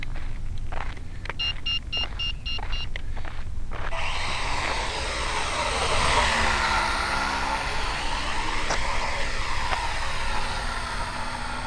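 A quadcopter flies over Lake Elsinore on a windy day, its motors giving a steady buzzing whine that shifts in pitch as it maneuvers, heard close and continuous with wind noise and no talking.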